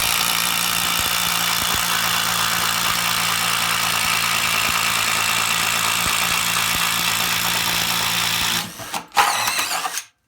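Bosch brushless impact driver driving a self-feeding auger bit straight through wood: a steady, loud whirring hammering drone holds for about eight seconds, then breaks off, followed by a short final burst and stop.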